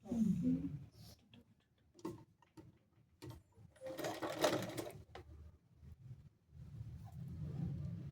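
A tailoring sewing machine stitches a baby cap in several short, separate runs, with a louder burst partway through and soft taps and handling noises between them.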